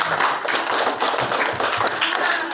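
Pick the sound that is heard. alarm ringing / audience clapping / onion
audience clapping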